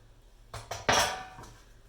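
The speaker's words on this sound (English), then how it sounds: "All you have to do is just put them on the pan evenly." Seasoned fries are set down one by one on an oiled baking pan, making three quick metallic clinks and taps close by, the last one brighter and ringing briefly in an otherwise quiet room.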